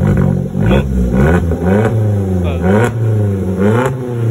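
A Vauxhall Corsa D engine with a straight-pipe exhaust revs hard several times in bursts, a loud raspy exhaust roar rising and falling with a steady idle rumble between pulls.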